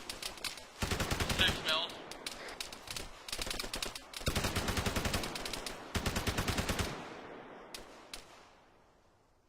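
Gunfire in a military video game: repeated bursts of rapid automatic fire in clusters with short gaps, crisp and close, with a brief spoken remark over the shooting.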